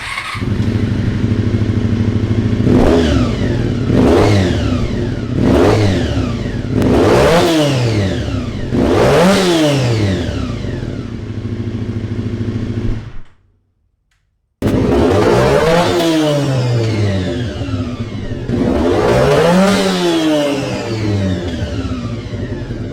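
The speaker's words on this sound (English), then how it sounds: "let's rev it up and give it a score." A Suzuki M50 Boulevard motorcycle, also sold as the Intruder M800, revved repeatedly: five or six sharp rising and falling throttle blips, a brief cutout of silence, then more loud revs close by, with no talking.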